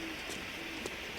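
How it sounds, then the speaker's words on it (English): An owl hoots in the survival video game The Long Dark, a faint low call heard twice over a quiet ambient background. "I heard an owl there"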